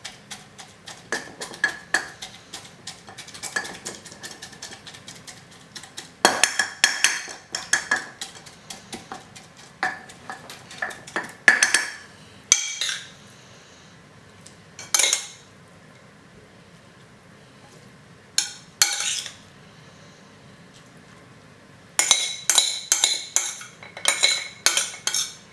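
Raw vegetables being packed and pressed into a jar for lacto-fermentation, with bursts of clinking, tapping and utensil knocks against glass separated by quiet pauses, close and fairly crisp.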